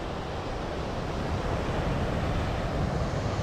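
Strong ocean surf at a crowded beach where people are surfing in rough weather, a steady loud roar of breaking waves and wind with no pauses or voices.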